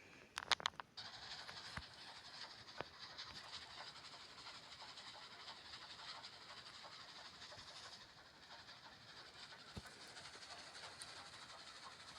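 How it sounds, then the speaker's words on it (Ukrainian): A train rolls along in a video game, a steady mechanical hiss and rumble carrying on for several seconds with sharp clicks at the start and occasional faint knocks. "І йдемо в поїзд заправляємо поїзд і їдемо."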